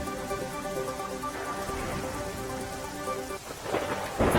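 Heavy downpour in Dwarka district, Gujarat, roaring steadily with rumbling thunder that swells louder toward the end, and no voices.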